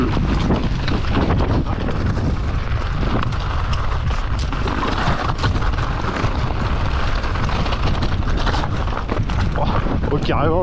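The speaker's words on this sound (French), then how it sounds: "Oh, carrément, le vent il te freine." Strong wind buffets the microphone during a mountain bike ride, a steady loud rumble and roar filling the whole stretch with gusty bursts, while a rider talks over it.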